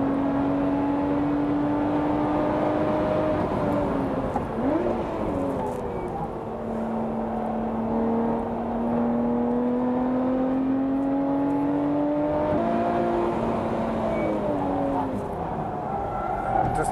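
Lotus Evora GT430 sports car driven flat out on a track, heard from the cabin as a loud sustained engine drone that climbs in pitch through the gears with brief dips at shifts, a driver's voice talking over it.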